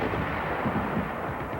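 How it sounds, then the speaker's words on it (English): WWII bangalore torpedo and grenade blasts rumble in a continuous, dense roar of explosions, loud and heavy throughout, with a low thudding underneath and no clear gaps between detonations. "blowing them apart with bangalores and grenades"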